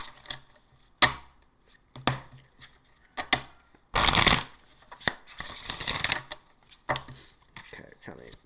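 Celtic tarot cards being shuffled up close, with sharp riffles and taps arriving roughly once a second and a longer riffle burst in the middle, all quiet and without talk.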